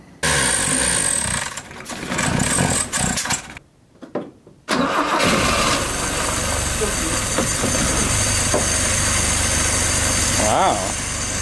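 A Nissan Sentra engine cranks, falters briefly, then catches and settles into a steady, loud mid-pitched idle up close; a short higher whir rises near the end.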